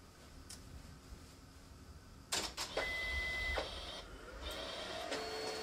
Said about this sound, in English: So you can see it here now printing